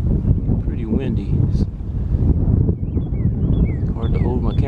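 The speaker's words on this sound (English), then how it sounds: "Pretty windy." Strong wind gusts buffet the microphone on a dark, cloudy morning at a park pond, a steady loud rumble with a few faint bird chirps high above it.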